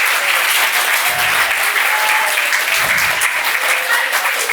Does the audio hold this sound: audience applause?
yes